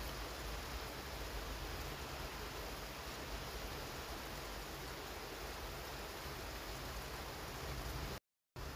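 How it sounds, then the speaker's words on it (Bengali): Rain falling steadily, a soft, even hiss that stays constant throughout and cuts out briefly just before the end. "বৃষ্টি অনেক বৃষ্টি কত বৃষ্টি"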